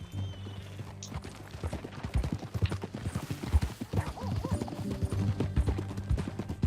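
Several horses clip-clop along in Red Dead Redemption 2, hooves drumming in a steady trotting rhythm, close and fairly loud, with a whinny and creaking tack mixed in.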